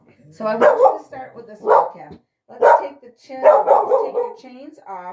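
A dog barks a few times, sharp, close bursts heard beneath and between a person talking indoors.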